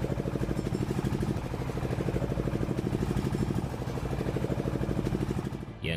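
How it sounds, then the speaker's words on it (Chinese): A loader vehicle's engine is throttled up hard right after a troubled startup while lifting aerated concrete blocks, giving a steady, close, loud clattering rumble that fades slightly near the end. "商师傅决定加大油门再试一次"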